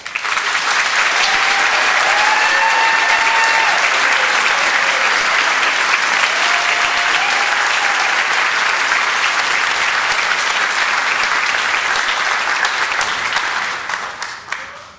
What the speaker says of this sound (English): please help me in congratulating them with our applause